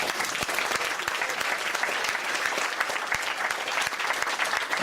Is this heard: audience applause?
yes